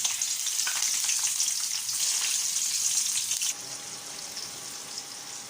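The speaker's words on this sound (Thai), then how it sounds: "จะทอดกระเทียมต่อนะคะ" Garlic and shallots dropped into hot oil for a crispy pork fat chili paste, giving a loud, dense bubbling sizzle that drops abruptly to a quieter, steadier fry partway through.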